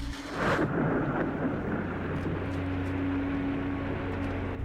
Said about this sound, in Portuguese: e depois vem a chuva